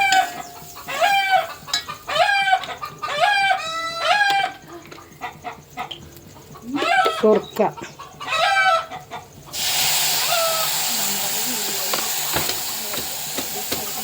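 Chickens cluck and a rooster crows in a run of repeated calls at moderate distance, followed by a steady hiss; a brief word is spoken faintly.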